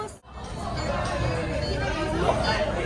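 Crowd chatter filling a packed Aroos Damascus restaurant, a steady indoor babble of many overlapping voices with clinks, continuing after a brief dropout at the start.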